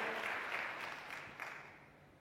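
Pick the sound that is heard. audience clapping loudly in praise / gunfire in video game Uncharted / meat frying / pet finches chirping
audience clapping loudly in praise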